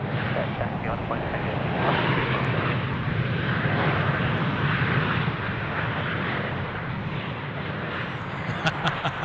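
C-17 military transport aircraft at Sydney Airport, a loud, sustained jet engine roar dominating the whole stretch, broad and rumbling, nearby and slowly easing toward the end.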